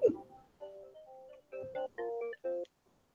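Phone ringtone playing a short synthetic melody of sustained tonal notes in bursts, fairly loud and close, with no talk over it.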